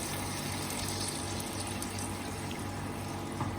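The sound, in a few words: water poured into a pan to deglaze for chicken stock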